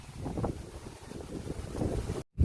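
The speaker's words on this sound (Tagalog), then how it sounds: "kahit ganito kalakas yung hangin" Strong wind after a typhoon buffets the microphone in low rumbling gusts, with a brief cut near the end.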